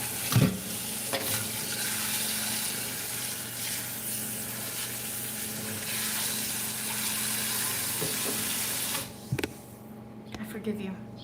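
Food is stirred in a sizzling pan while cooking, a continuous frying hiss with occasional scraping knocks of the utensil, with voices talking over it near the end.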